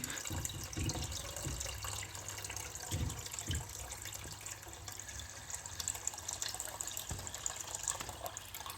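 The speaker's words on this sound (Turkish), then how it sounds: "Evet şimdi fazla zaman kaybetmeden suyumuzu da ekliyoruz" Clean water pours from a tap-like flow into an aquarium being refilled after months without cleaning, a steady continuous splashing rush with small bubbly surges, close and fairly quiet, no voices.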